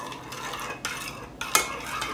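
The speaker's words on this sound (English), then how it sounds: "Now we're going to mix it very well." A spoon stirs yogurt mixed with strawberry syrup in a bowl, giving a steady soft scraping swirl with a few sharper clinks of the teaspoon against the side, close and alone.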